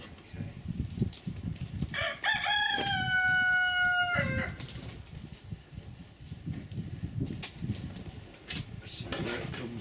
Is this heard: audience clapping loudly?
no